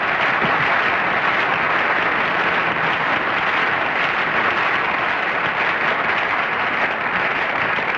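A studio audience at a television game show applauds loudly and continuously, a thick, even roar of clapping that stays constant for the full stretch with no talking over it.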